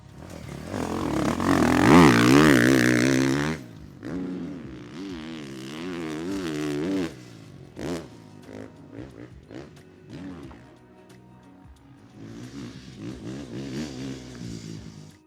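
A motocross dirt bike ridden by Justin Barcia in training in California revs hard and loud, its engine rising and falling as it works through the throttle, then drops off before picking up again further away.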